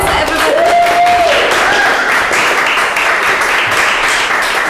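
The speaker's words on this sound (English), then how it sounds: "Applause, everybody." Studio audience applause welcoming a guest on a live coaching webcast, a steady bed of clapping with faint cheering and a brief whistle-like tone early on.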